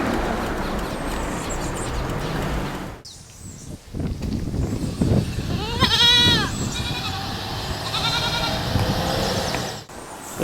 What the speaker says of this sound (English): This donkey I just found randomly.